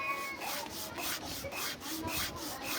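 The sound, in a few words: sanding a wooden carving with sandpaper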